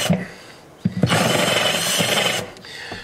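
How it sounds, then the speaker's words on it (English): Step drill countersinking a hole in the wood of a 1980s Gibson Dove acoustic guitar during repair, a steady grinding whir lasting about a second and a half after a few short taps, close and fairly loud. "You can see I use a step drill."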